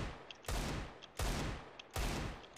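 Desert Eagle pistol shots in a video game, three loud, evenly spaced blasts about every seven tenths of a second, each with a ringing decay and no talking.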